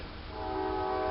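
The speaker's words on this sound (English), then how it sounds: "I hear that train out there." A train sounds its horn outside as it passes, a steady sustained tone that swells from faint to loud over about a second, heard at some distance.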